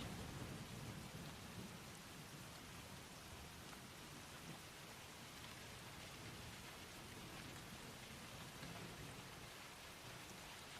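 Steady rain falls during a violent thunderstorm, a dense continuous wash of drops with low rumbling underneath, even and unbroken throughout and fairly soft overall.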